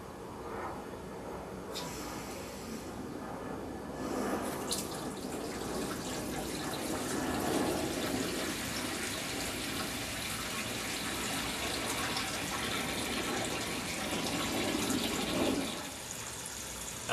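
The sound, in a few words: water running to fill home brewing system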